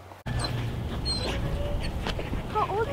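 A dog in a kennel whimpers in several short, thin, high whines over a steady background hum, fairly close, with no talk.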